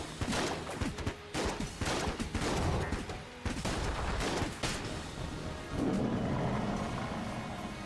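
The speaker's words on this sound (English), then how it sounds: "Those bullets. Those are the ones that come out of the walls" Dense gunfire fills Enter the Gungeon as bullets spray out of the dungeon walls, a loud, near-continuous fusillade of rapid shots and bursts with a couple of heavier booms and no pauses.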